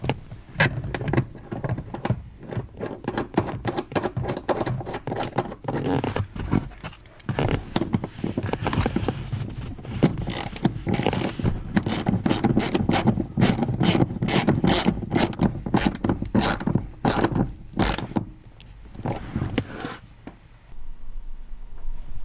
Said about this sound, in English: I'm just going to change my socket and tighten this down.